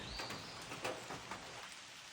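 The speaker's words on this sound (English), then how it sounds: "It actually might be raining as hard as I think it is." Hard rain falls on a hiking trail in the Allegheny backcountry at sunrise, a steady, faint wash of drops with no voices.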